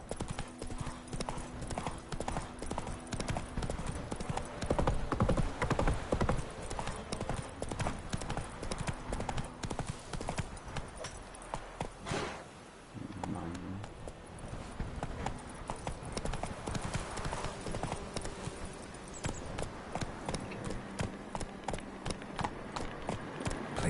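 Hooves of the horse Roach from The Witcher 3 clip-clop in a fast, rhythmic gallop, loud and close and nearly continuous, with a short lull midway.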